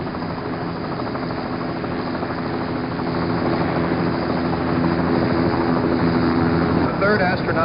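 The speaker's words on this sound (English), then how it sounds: "The helicopter is going to come back to the ship now." A steady recovery helicopter rotor drone thrums loudly and continuously after the Apollo 11 splashdown, carrying astronauts to the recovery ship, with a faint voice talking over it near the end.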